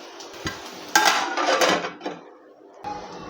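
Bitter gourd and potato curry being stirred in a pan, a few metallic scrapes and clanks of a spoon against the pan in short bursts, close, ending in quiet.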